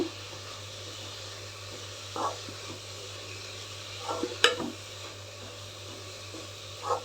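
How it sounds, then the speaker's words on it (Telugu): Carrot frying in ghee gives a soft, faint sizzle under a few scattered stirring scrapes and a sharp clink of a spoon against the pan, with no talking. "నెయ్యిలో మంచిగా ఇట్లా వేపుకోవాలా బాగా కొంచెం మెత్తబండి"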